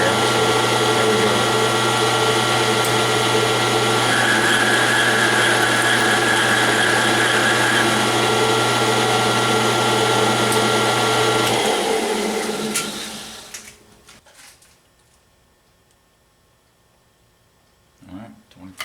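A metal lathe cuts a single-point thread on a suppressor end cap, a loud steady machine whine with a sustained tone that winds down to near silence, followed by faint clicks at the end.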